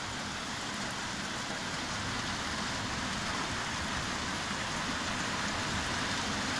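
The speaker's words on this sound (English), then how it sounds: "This rain is really coming in now." Heavy thunderstorm rain over Doniford Bay, Somerset, falls in a constant, loud, close hiss that stays even from start to finish with no voices.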